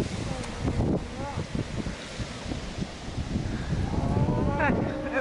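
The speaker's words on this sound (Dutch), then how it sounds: "Daar staan de koetjes te loeien." Cows mooing in a field in Ireland, low drawn-out calls at a moderate distance under steady wind noise buffeting the microphone.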